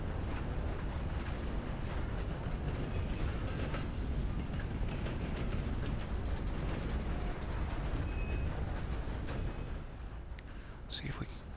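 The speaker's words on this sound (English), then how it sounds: "I'm a little bit far back on the train, though." A train rolls along in Red Dead Online, giving off a steady rumble with clickety-clack and mechanical rattling. It goes on evenly at moderate volume, with a player talking over it now and then, and fades near the end.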